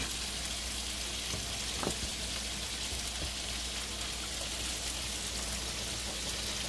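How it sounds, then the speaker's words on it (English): Thickening southern country gravy being stirred in a pan on a stove, a steady soft sizzle and bubbling texture with faint scraping of the spoon, continuous and close, no talking. "As you can see, you got to keep her stirring"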